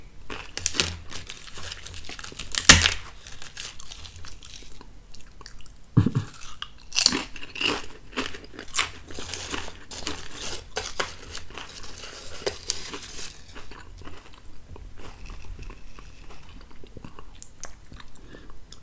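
Crisp, close chewing and crunching of UTZ honey barbecue potato chips, with irregular crackling bites and crinkles continuing throughout, loud and alone without talk.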